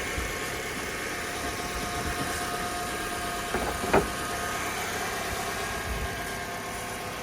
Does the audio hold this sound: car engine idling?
yes